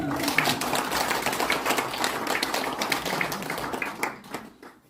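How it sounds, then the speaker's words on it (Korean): An audience at a church denomination's opening worship service claps, a dense burst of applause that fades out over several seconds, with a voice briefly under it. "아니 박수 한번 쳐드리세요"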